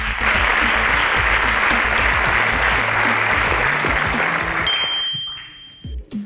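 Loud, sustained applause from a school quiz competition audience rewarding a correct answer. It fills most of the moment, then a bright bell-like ding rings out as the clapping fades away.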